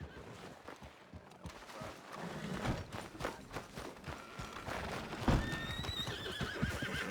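Horse whinnies and clip-clopping hooves in the Red Dead Redemption 2 game world, a loud neigh around the middle with hoofbeats and outdoor ambience throughout, faint high tones near the end.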